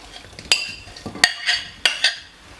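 A utensil scrapes fruit into a big bowl for a fruit salad, giving several short clinks and scrapes against the bowl, close and fairly crisp, spaced irregularly with quiet between.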